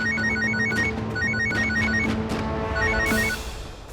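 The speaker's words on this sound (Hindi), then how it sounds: "वैसे विवान ने वो छिपाए हुए फोन पर उनका नंबर डायल कर दिया है।" A telephone rings from a dialed call to a hidden phone in a doctor's cabin, giving repeated electronic ringtone bursts in a steady pulsing pattern that ends in a brighter burst of noise.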